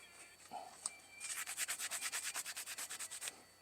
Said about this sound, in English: I'm gonna wipe this down with some acetone.